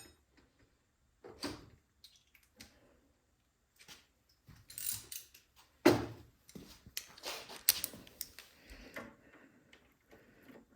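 A hand wrench working on a Craftsman 22-inch snowblower that won't start, heard as scattered metallic clicks and ratcheting clatters, irregular and close, with quiet gaps between bursts.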